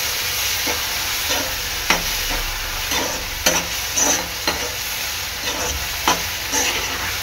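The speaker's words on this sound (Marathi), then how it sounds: "सगळे सॉसेस मिक्स करून घ्यायचे आहेत" Sauces, including soy sauce and green chili sauce, are stirred and mixed in a hot pan, with a steady close sizzle punctuated by repeated scraping and clacking strokes of a spoon.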